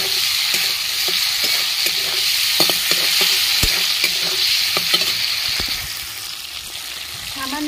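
Ground ginger and cumin paste sizzles loudly in a pan for a village-style banana-flower curry, with a continuous hiss broken by repeated scraping stirs close up.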